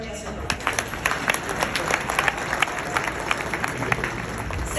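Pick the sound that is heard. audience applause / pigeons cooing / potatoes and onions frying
audience applause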